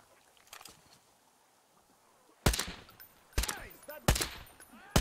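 Gunfire in the Metro Exodus video game: a faint shot or two, then several loud, close bursts of automatic fire with gaps between them.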